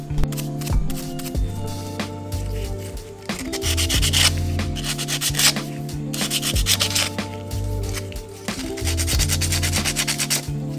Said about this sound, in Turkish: Enjektörleri şu şekilde güzelce temizlerim.